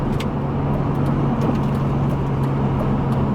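A BMW Z3 M Coupe with an S54 engine and 5-speed manual drives along, its steady low engine drone and road roar filling the cabin continuously, recorded close from inside the small car.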